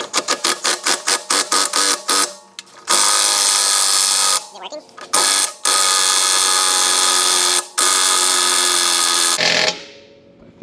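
Power tool tightening a fastener to press an aftermarket rear differential bushing into an Infiniti G37, heard as a series of short rapid bursts followed by long sustained loud runs with brief pauses, close and alone.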